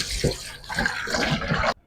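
Tap water running over pork scraps being washed in a sink, a steady close splashing with uneven bursts as the meat is handled, stopping abruptly at the end.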